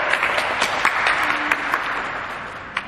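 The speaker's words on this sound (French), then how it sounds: "On va l'applaudir pour son effort." A classroom of pupils applauds a classmate's effort, brisk clapping that lasts about three seconds at moderate loudness.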